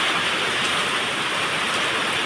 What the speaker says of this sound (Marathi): जोरात पाऊस आहे मस्त पाऊस सुरू झालेला आहे जोराचा पाऊस आहे